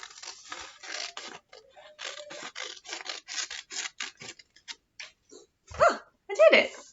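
Scissors cut through a paper rectangle in a run of short, crisp snips and rasping strokes close by, quickening and then spacing out, with a few louder crunches near the end.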